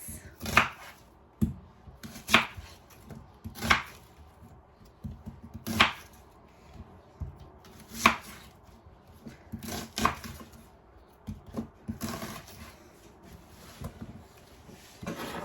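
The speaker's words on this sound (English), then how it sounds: "It will be much easier to chop the onions." Onions being chopped with a small chopper: a steady series of crisp, moderately close chopping strikes, roughly one every second or so, against a quiet kitchen background.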